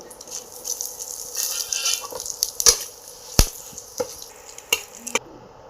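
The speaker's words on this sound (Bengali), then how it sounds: "দারচিনি, দুটো এলাচ, দুটো লবঙ্গ আর জিরে ফোড়ন দেব" Light sizzling of cinnamon, cardamom, cloves and cumin in hot oil, with scattered sharp clicks and taps of a spoon against the pan.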